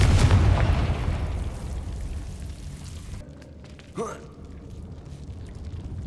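A Confringo spell explosion in the Hogwarts Legacy video game: a single short burst near the four-second mark, set against a steady low rumble of ambient game noise, with no voice over it.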